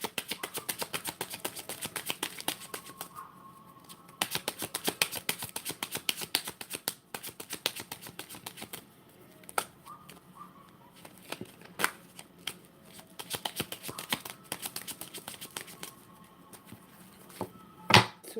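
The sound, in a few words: shuffling cards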